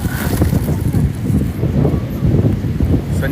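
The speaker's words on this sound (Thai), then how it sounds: "คนเยอะลมแรง ลมแรงมาก" Strong wind at the Pattaya International Kite Festival 2025 on a crowded beach, roaring steadily and loudly across the microphone with constant gusty rumble throughout.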